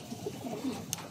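A racing pigeon coos up close in a few soft, low, throaty notes over a quiet background.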